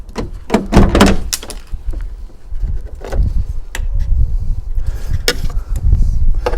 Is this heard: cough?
no